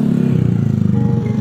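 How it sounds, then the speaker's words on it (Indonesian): A motorcycle passes close by outdoors at a home garden with a raised bed of used roof tiles and bamboo, its mid-pitched engine droning steadily and fairly loud with a slight clatter throughout the short stretch. "terganggu dikarenakan ada motor"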